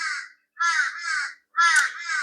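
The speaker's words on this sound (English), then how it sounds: "And I've got some crows up there, crowing to that." Crows cawing in three harsh, spaced bursts, each made of a couple of rasping calls, clear and fairly close with silence between them.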